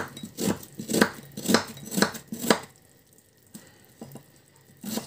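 Five crisp knife chops on a cutting board in a steady rhythm as an onion is diced, followed by quiet, then a couple of softer taps near the end.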